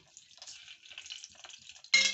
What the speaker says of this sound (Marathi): तूप जरा गरम झालं की आपण आता जिरं टाकलं